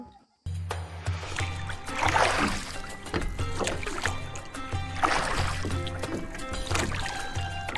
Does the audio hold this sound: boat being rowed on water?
yes